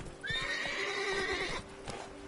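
Roach, a horse in The Witcher 3, lets out one loud, long whinny that wavers before fading, with hoof clatter underneath.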